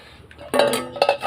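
An iron kadai being rubbed with lemon: short metallic scrapes and clinks of the pan, close up and fairly loud, two bursts after a quiet start, with no talking.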